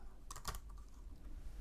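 Short burst of typing on a computer keyboard while coding, a quick cluster of several close keystrokes early on, then quiet room tone.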